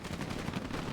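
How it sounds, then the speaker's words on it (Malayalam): Gunfire during a clan war match in an online shooter game, a dense, rapid burst of shots crackling continuously across a brief moment, loud and close with no speech over it. "നല്ല വെടി കിടക്കുന്നുണ്ട് പക്ഷെ ആരും വീഴുന്നില്ല അങ്ങോട്ട്."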